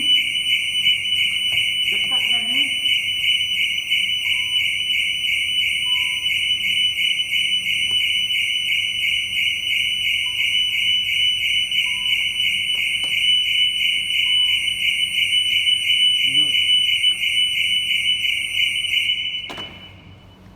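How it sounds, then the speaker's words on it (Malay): A shrill, continuous high-pitched alarm tone blares nonstop for about nineteen seconds, then cuts off; a person talks briefly under it. "So sekarang bila buka alarm bunyi"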